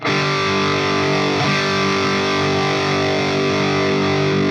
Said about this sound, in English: Check out the distortion.